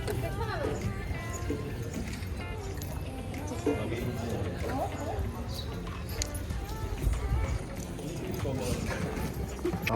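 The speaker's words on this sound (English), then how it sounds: "I'm riding a horse for the first time in my life" Horse being ridden, hooves clip-clopping in a steady walking rhythm close by, with a person talking over it throughout.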